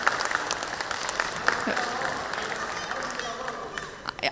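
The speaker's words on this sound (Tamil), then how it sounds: "எல்லாரும் சேர்ந்து ஒரு வாட்டி கைத்தட்டிடலாமா?" An audience at a Tamil prize-giving ceremony for reading and film review contests claps together, a dense steady patter of many hands lasting a few seconds with a voice audible over it.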